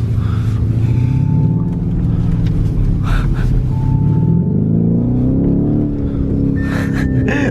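A 650 hp Lamborghini Urus engine drones steadily up close, rising and falling in pitch as it is driven and revved, with people talking over it.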